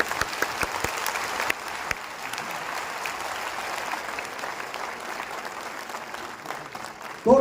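Loud, sustained applause from a large audience at a religious speech gathering, a dense wash of clapping running steadily throughout, with a brief louder burst at the very end.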